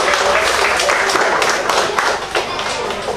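Lively audience applause before a summer camp play, many hands clapping loudly and close, with a few sharper individual claps standing out near the end.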